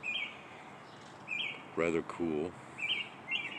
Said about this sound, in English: Got quite a few birds.